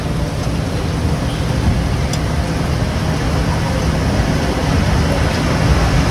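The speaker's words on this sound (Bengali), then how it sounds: "দেখুন বাইরে কি বৃষ্টি, আজকে এক সপ্তাহ থেকে শুধু বৃষ্টি" Rain falling outside during a week of steady wet weather, a continuous dense hiss that fills the whole stretch evenly, loud and unbroken, with no voices heard.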